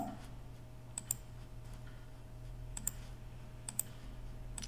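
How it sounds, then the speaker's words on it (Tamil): Fingers tap on an Android phone's on-screen keyboard, giving sparse, light clicks at irregular intervals over a steady low hum, close and quiet with no one talking. "வணக்கம் சொல்லிட்டு நான் இங்கிலீஷில் டைப்"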